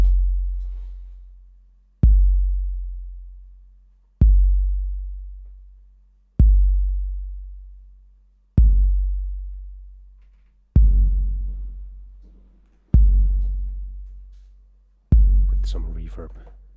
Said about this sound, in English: This is just a TR8.